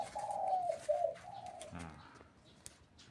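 Caged doves give a clear nearby coo, a low wavering call repeated in two or three phrases. A short burst of wing flutter or rustle follows, then quieter ambient sound.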